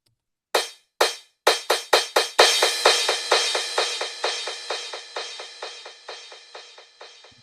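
Crash cymbal build in a house track, hits starting sparse then speeding into a dense run of bright metallic crashes, each tail smeared by delay echoes that trail off and fade.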